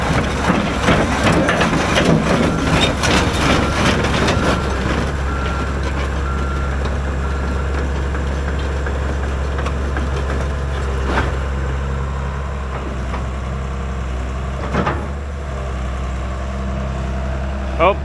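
A truck works at pulling out a dead bush, its engine droning steadily throughout with rhythmic reversing beeps and crunching at the start, later settling into a continuous idle rumble with a few scattered knocks.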